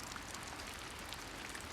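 Steady rain falls at the Rashomon gate in late Heian-era Kyoto, a soft, even hiss of drops with no pauses or voices, quiet and continuous throughout.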